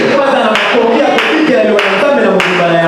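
A church congregation claps steadily and loudly in a dense, continuous round of applause for the Lord, with strong regular beats running through it and a few voices mixed in.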